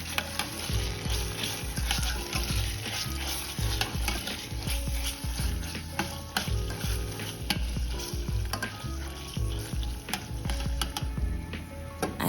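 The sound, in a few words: onions and tomato paste frying in pot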